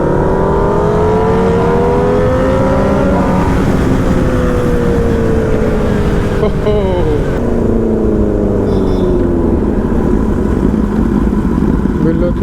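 A Honda CBR 650F superbike fitted with an Austin Racing exhaust runs loud and close on an open road, its engine note climbing through revs and shifting in pitch between gears, with wind noise throughout.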